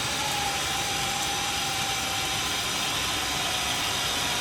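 A 4.75-stroke big-block Ford billet crankshaft spins on a balancing machine, giving a steady, loud, even whirring drone with a faint tone and no change in speed.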